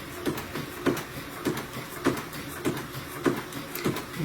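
Sewing machine slowly stitching flannel appliqué on a Christmas stocking, driven by a pumped foot controller: seven evenly spaced thumping stitches roughly every 0.6 seconds, each a short mechanical clunk, close and moderately loud with no talking.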